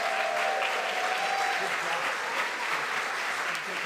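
Audience applause for a youth choir at a Sunday church service, steady and sustained throughout, with a faint tone early on, without talk over it.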